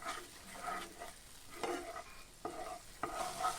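Chilli powder, turmeric, masala and cumin cooking in a pan for chana masala chaat, with repeated spoon-scrape stirring strokes over a soft background sizzle, no talking.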